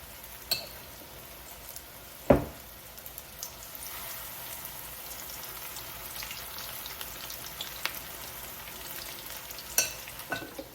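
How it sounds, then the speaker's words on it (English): Quiet, steady sizzle of zucchini fritters frying in a pan, with a few sharp clinks and taps scattered over the soft crackling hiss. "You can hear that nice fry on there."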